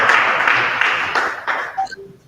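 Audience applause at the SieDi-Hub unveiling event: a dense, steady wash of many hands clapping for about two seconds, thinning and tapering off, with a few faint bright pings at the tail.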